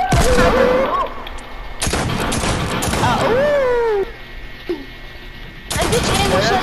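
Shotgun blasts in the video game Fortnite, several sharp broadband bursts spread across a busy, loud mix with game music and voices talking over them.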